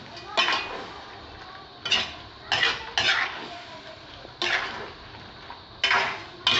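Potatoes and sweet corn stirred in a pan with a utensil, giving a series of separate scraping clinks against the pan at an uneven rhythm, close and fairly clear with no talking.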